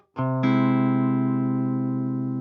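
A sustained augmented chord with a sharpened fifth rings out after a brief first note, the full tones holding steady and slowly fading over a couple of seconds.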